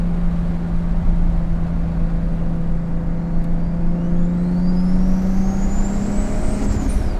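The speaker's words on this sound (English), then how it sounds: "That is a precision turbo with what some might call a T51R mod." A 500 HP Nissan R32 GT-R with a Precision turbo in a T51R configuration runs loudly and steadily, a constant engine drone topped by a rising and falling high-pitched turbo whistle, with no talking.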